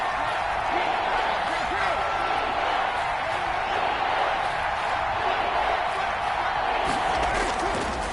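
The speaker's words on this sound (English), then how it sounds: "this crowd's going to get even louder" A football stadium crowd at a Raiders versus Falcons game roars continuously in a dense, loud wall of cheering that never lets up.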